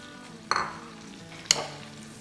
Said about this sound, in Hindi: और अब इसमें हम डाल देंगे एक मीडियम साइज़ की स्लाइस की हुई प्याज। बटर मेल्ट होता जाएगा, तेल गरम होता जाएगा